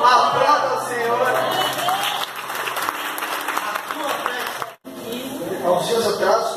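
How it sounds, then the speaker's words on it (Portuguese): A church congregation claps and praises during a healing service, fairly loud clapping mixed with voices and speech, briefly cutting out near the end before resuming. "aplauda o Senhor"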